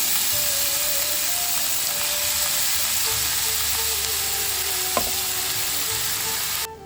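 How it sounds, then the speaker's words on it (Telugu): Grated bottle gourd frying in ghee in a pan gives a steady, loud, close sizzle that runs the whole time, with a faint scrape near the end. "సోరకాయ తురిమిని ఇలా ఫ్రై చేసుకోవాలి."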